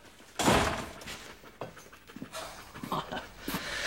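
A dog pants in quick, breathy bursts close by, with a few soft thumps and rustles between the breaths.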